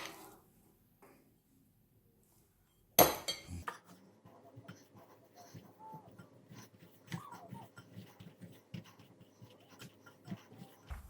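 A utensil works buttercream into a crumbly cake pop mixture in a bowl, with soft scraping and clinking strokes that start abruptly after a quiet pause and go on irregularly up close.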